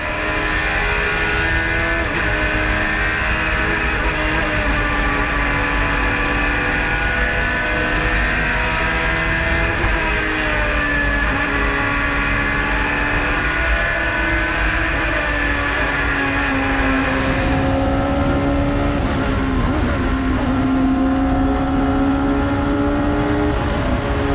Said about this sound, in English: This will be a high revving car.